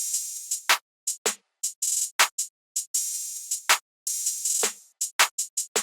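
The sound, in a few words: programmed open hi-hat pattern, Luca open hat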